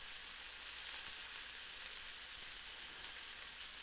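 Tuna steaks sear in a pan with a faint, even, continuous sizzling hiss that holds steady throughout without breaks or voices.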